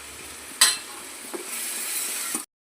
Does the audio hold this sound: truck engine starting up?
no